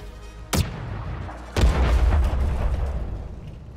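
Two heavy tank cannon shots boom in World of Tanks on Xbox, played in an E50M medium tank, each a sharp loud blast followed by a long rumbling tail, spaced about a second apart.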